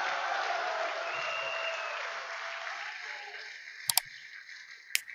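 An audience at a political lecture applauds in a dense wash that gradually fades, followed by a couple of sharp clicks or knocks near the end.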